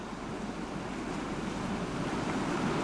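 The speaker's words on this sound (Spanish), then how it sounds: "La fuerza del agua al golpear en el acantilado hace que la espuma forme pequeños charcos en los recovecos de las rocas." Sea waves crash and surge against rocky coastal cliffs, a dense roaring wash with wind, loud and continuous without any voices.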